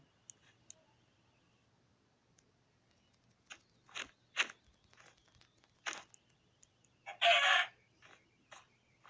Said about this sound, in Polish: O kurczak.